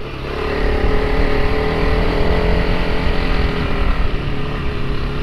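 A Honda CRF300L Rally motorcycle engine pulling hard in second gear up a snowy trail: a loud, steady, close droning growl that holds without a break throughout.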